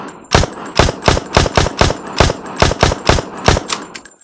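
Video game gunfire from Beyond Sandbox, a series of about a dozen loud, sharp shots fired at an even, fairly quick pace, close and alone, stopping abruptly.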